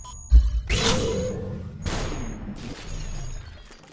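Enemy gunfire in the VR video game Superhot comes as a few sharp, close bursts, with a heavy thump at the start and two bright crackling shots about a second apart, then fading rumble.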